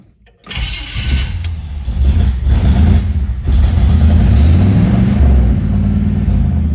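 A 1957 Chevrolet Bel-Air Wagon cranks briefly and fires, then settles into a loud, steady, rumbling idle through cast manifolds and glass-pack mufflers, heard close up with no voices.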